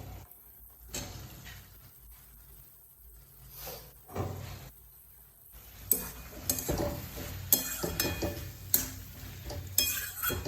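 Capsicum stirred into a Bengali-style paneer and potato curry in a pan: scraping and clattering stirring strokes, sparse at first then busier, with a low simmer underneath and no talking.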